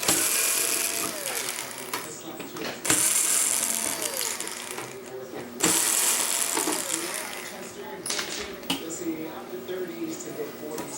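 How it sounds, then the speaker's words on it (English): A screwdriver works on the drive board of a Sony SXRD projection television under repair, giving close metallic clicks, ratcheting and a few sharp knocks as screws come out, with faint background noise throughout. "Next, we'll go ahead and remove the screws from the drive board itself."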